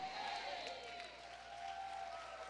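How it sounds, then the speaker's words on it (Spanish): A church congregation applauds in a steady, distant wash of clapping that holds for the whole span, fairly faint and reverberant, with a voice speaking over it. "sigue aplaudiendo fuerte al Señor"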